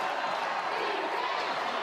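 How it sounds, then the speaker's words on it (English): Crowd noise in a basketball arena during a college exhibition game, a steady, moderately loud roar of cheering voices. "Crowd trying to get in it."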